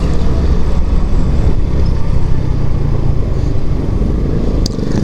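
Suzuki 110 motorcycle passing on a city road, a continuous motor rumble mixed with general road traffic noise, fairly loud and steady without talking.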